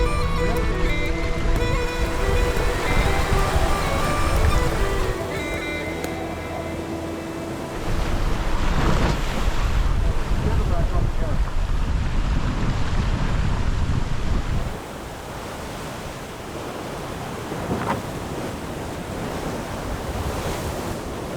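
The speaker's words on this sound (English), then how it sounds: "Winds were still increasing, waves building." Wind and building waves while sailing the Scottish sounds between Rùm and Oban: a loud, continuous wash of sea and gusting wind buffeting the microphone, surging and easing in long stretches.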